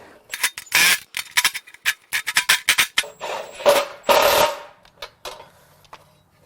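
Hammer blows on a car's metal part during a Miata rebuild, a burst of sharp, irregular metallic strikes close up, some in quick flurries, with short rasping scrapes between them.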